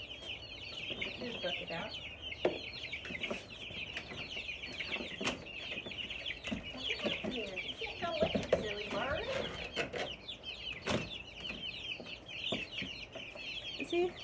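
Hens clucking and squawking steadily inside a farm chicken coop, many birds close by with overlapping calls, while a person speaks briefly over them.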